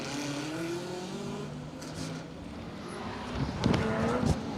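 A rally car at a circuit rally at Cadwell Park accelerates out of a handbrake turn, heard at a distance with rising engine tone, some tyre scrabble and a louder burst near the end.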